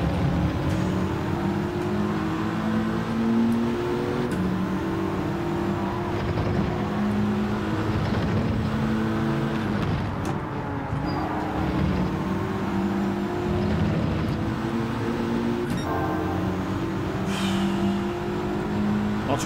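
A race car overtakes during a Gran Turismo 7 race, with engines droning and revving steadily throughout and cars whooshing past at close range.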